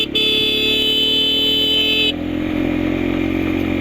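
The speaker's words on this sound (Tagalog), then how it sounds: "Kagandahan ng motor na ganito no? Kahit saan ka dadaan." A motorcycle engine drones steadily and loudly as the bike climbs a long, steep uphill road in first gear on a remote mountain route toward the Cordillera. A high whining tone drops away partway through.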